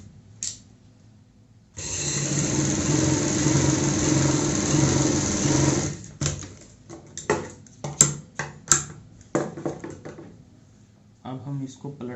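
A sewing machine stitches a designer frock for a young girl, running in one steady buzzing burst for about four seconds before stopping, followed by a person speaking and intermittent handling clatter.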